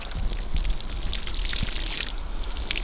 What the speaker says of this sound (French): on va procéder à l'arrosage